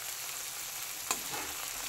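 Spicy Maggi noodles frying in a hot pan at home, a steady soft sizzle with one brief sharp clink of stirring, close and even throughout.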